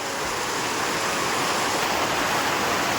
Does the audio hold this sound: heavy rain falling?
yes